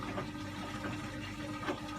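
Hot water poured into the powder drawer of a Hotpoint washing machine, a steady close trickle and splash that runs without pause throughout.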